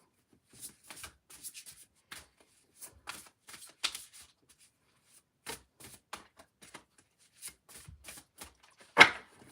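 Tarot cards being shuffled by hand in a quiet room, a steady run of soft riffling and rubbing bursts with short pauses, ending in one louder sharp slap of the deck.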